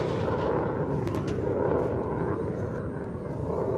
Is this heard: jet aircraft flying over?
yes